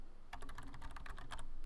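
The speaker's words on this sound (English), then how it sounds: "Start by naming your project by typing directly into this text box and hitting enter." Rapid keystrokes on a computer keyboard clatter in a quick, uneven run, close and clear over a faint room hum, with no talking.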